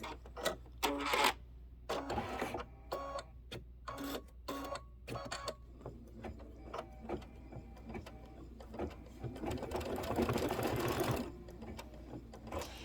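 An embroidery machine stitches ribbon placement lines in a hoop, with rapid mechanical clattering and sharp ticks in uneven bursts, and a denser, louder stretch of continuous stitching toward the end, close and prominent.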